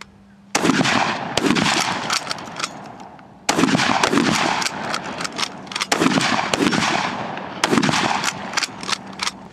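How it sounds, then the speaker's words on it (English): Rifle gunfire on an infantry firing range, sharp repeated shots in dense bursts from several shooters at once, loud and close, with short pauses between volleys. "Fire 3 rounds."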